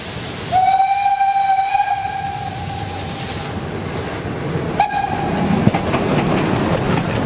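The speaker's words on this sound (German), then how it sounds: "In Dreiannenhohne erleben wir den Zug noch einmal bei der Ausfahrt." A Harz narrow-gauge steam train departs Drei Annen Hohne on the Harzquerbahn on an October day, sounding a long, loud whistle and then a second short blast over the chuffing and clatter of wheels on the rails.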